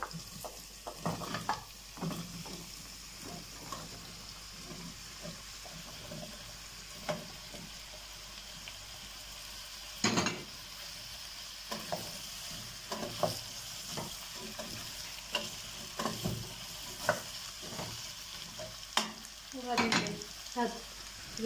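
Chopped vegetables sizzle in melted butter in a pot for a vegetable soup, with frequent sharp scrapes and knocks of a spoon stirring against the pot over a quiet background fry, all near and with no talking.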